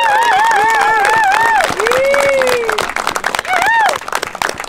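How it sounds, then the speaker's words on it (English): A crowd at a knighting ceremony breaks into loud, sustained applause that fills the whole moment, with voices and whoops rising over the dense clapping before it thins slightly near the end. "So let's give them a round of applause."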